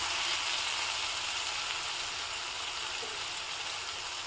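Brinjal pieces frying in hot oil in an uncovered pan, giving a steady, dense sizzle that stays loud and even throughout with no voices.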